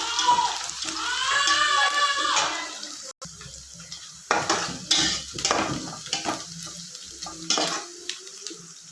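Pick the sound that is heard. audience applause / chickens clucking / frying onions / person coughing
frying onions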